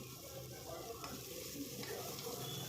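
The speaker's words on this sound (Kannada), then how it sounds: "ಆ ಮಸಾಲೆನೆಲ್ಲ ಹಾಕ್ಕೊಂಡು ಫ್ರೈ ಮಾಡ್ಕೊಳ್ಳೋಣ" Ground masala paste fries softly in a pan with fried brinjal for a fresh field bean sambar, giving a faint, continuous sizzle with gentle stirring scrapes and no voices.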